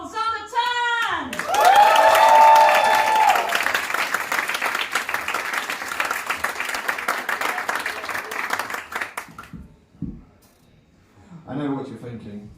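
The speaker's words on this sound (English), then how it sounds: "please give it up with our whoop, cheer, scream on stage the wonderful sound of Tang!" At a stand-up comedy show, a live audience bursts into cheering and sustained applause for several seconds after a shout, then the crowd noise fades out and a voice begins.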